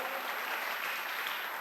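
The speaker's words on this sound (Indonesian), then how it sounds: "Tepuk tangan bagi dia." Congregation applause during an online church worship service, a steady even wash of clapping that holds at a moderate level throughout.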